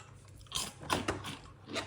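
Crisp bursts of crunching as Weetabix cereal is eaten, three or four close bites spaced about half a second apart, alone and fairly quiet.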